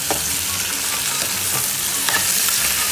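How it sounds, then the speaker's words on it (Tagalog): Chicken drumsticks sautéing with onions in a hot pan for adobo, a steady close sizzle with occasional stirring clicks and scrapes. "Palutuin muna natin yung drumstick sa mga sibuyas. Gisa muna natin para mag-absorb ang mga lasa."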